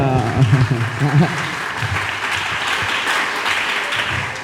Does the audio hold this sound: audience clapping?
yes